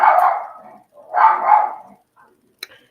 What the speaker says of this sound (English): This dog ain't said nothing all the time that I'm here.